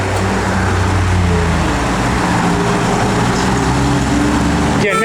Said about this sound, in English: give it a little rev so they can see it